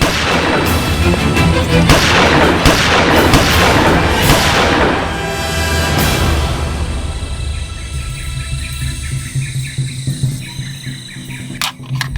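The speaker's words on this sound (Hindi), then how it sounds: "cover fire" Loud covering fire in a film shootout, dense bursts of rapid gunshots and booming blasts that pound for several seconds, then thin out into scattered reports and rumbling echoes before a final sharp crack.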